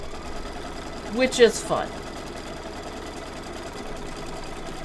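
Embroidery sewing machine stitching down fabric for a zipper bag, a steady mechanical hum under a voice, with a short burst of talk near the middle.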